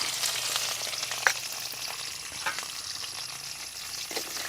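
Sliced okra frying and being stirred in a pan for Kerala sambar, a soft continuous crackling sizzle with occasional light spoon scrapes and small pops.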